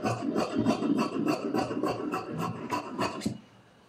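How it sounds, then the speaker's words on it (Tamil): Fabric for a maxi dress being cut along the bottom edge, a steady rhythmic series of close rasping snips and rubs, about a dozen strokes, then quiet. "பாட்டம் கட் பண்ணிக்கிறேன்."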